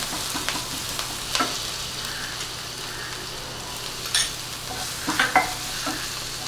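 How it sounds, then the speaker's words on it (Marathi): Green chillies with cumin being sautéed in a pan, a steady close sizzle broken by several brief scraping stirs of a spatula, no voices. "हिरवी मिरची हे थोडंसं परतून घ्यायची हिरवी मिरची"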